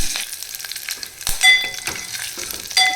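Curry leaves sizzle and crackle in hot oil for a mango dal tempering, with sharp pops and spatters over a steady frying hiss, loud and close with no talking.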